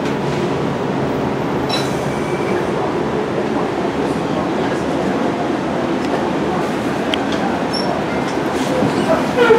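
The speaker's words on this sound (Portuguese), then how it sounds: "Aqui, como é o trem." A train rumbles past steadily at Millennium Park in the United States, a loud continuous low roar with faint wheel squeals and clicks throughout, no distinct talk.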